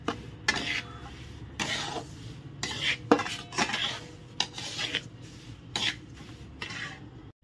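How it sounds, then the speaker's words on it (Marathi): Semolina roasting in ghee in a home kitchen pan, stirred with a spoon that gives repeated scraping and clinking strokes against the metal in an uneven rhythm, close by and fairly quiet, with no talking. "एकदम छान असं तुपात भाजून घेणार आहे परत एकदा रवा"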